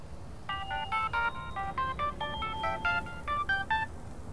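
A phone in Dreamfall Chapters rings with a run of bright, electronic tonal chirps in quick repeating bursts, clear and fairly close over a quiet background, with no talking.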